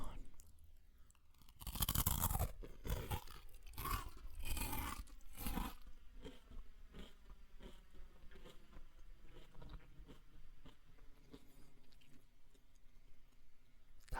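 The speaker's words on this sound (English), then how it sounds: "That was a very solid crunch for sure." Croutons crunch loudly up close as someone bites into them, a burst of sharp, crackly bites followed by softer repeated chewing that fades over several seconds.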